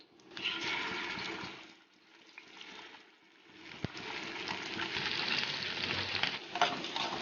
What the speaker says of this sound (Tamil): இப்போ தோசைக்கல் காஞ்சிட்டு எண்ணெய் ஊற்றிக்கிறேன். எண்ணெய் காஞ்சதும் மீன் வச்சிடலாம்.